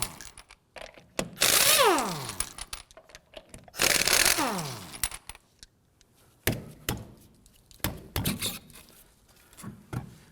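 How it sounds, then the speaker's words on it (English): A ratchet wrench with a 19mm socket works lug nuts loose on a 2008-2011 Ford Focus wheel, giving two long bursts of rapid clicking followed by scattered clanks and short rattles of metal handling. "Now we're going to use our 19mm socket to loosen and remove the lug nuts."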